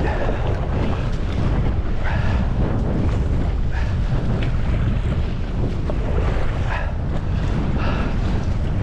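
Strong wind buffets the microphone on open water during a wilderness canoe trip on a Swedish lake, a steady roaring rush with water and boat noise underneath and no speech throughout.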